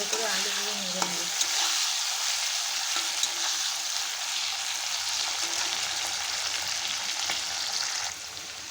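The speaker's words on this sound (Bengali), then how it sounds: "লঙ্কা দিয়ে ভালো করে আলুগুলো নেড়ে নেব।" Potatoes and slit green chilies sizzle loudly in hot oil in a pan, a dense continuous crackle with a few scraping clicks from stirring early on, fading slightly at the end.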